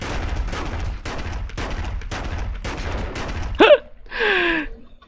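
Shotgun gunfire in The Punisher PC video game: a steady series of about eight loud, evenly spaced blasts, followed by two brief shrill cries.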